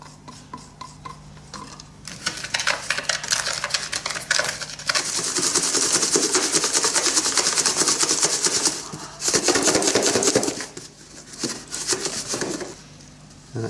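Ordinary beach sand is stirred and mixed with resin in a container, producing close gritty scraping and rasping in sustained bursts with short pauses between, fairly loud and without talk.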